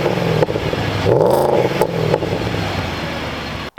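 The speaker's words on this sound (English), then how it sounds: "I want you guys to listen to this V8 because this thing sounds pretty damn mean" An Audi S6 Avant's powerful V8 engine revs up and back down once, with a rising and falling throaty roar, then idles rumbling before cutting off abruptly.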